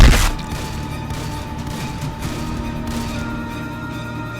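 A sharp blast opens, then a sustained rattle of rapid gunfire with electronic hum runs continuously underneath, like shooting in a game.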